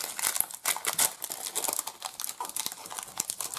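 The foil wrapper of a tightly sealed 2009 Tristar Obak baseball card pack is torn open, with rapid close crinkling and tearing in irregular bursts and no talk.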